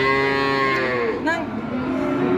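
A female calf about four months old lets out one loud, drawn-out moo close by at the Jatirogo cattle market in Indonesia. The call falls in pitch toward its end.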